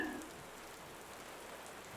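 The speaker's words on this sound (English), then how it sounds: "I focused on the sound of the rain hitting the tin roof." Rain falls steadily on a tin roof as a soft, continuous patter, heard faint and even for a couple of seconds with no voices.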